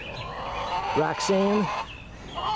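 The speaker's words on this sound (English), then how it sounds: "This is a chicken coop." Chickens in a backyard garden coop give a few short, close clucks in the middle of the moment, set over a steady low background murmur.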